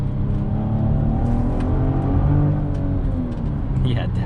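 A 2022 Genesis GV70 SUV in sport mode accelerates along a highway, heard from inside the cabin as a steady, loud engine and road drone that stays constant throughout.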